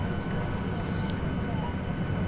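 Steady, loud broadband roar of an airplane cabin in flight, an unbroken engine and airflow drone that stays even throughout with no clear voices over it.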